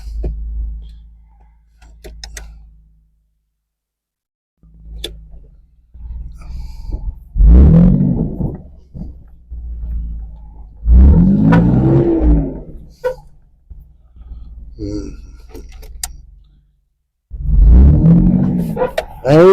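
A trail rig shifted into four-wheel-drive low idles with a deep, rumbling engine note that swells in several separate bursts of revving between quieter gaps.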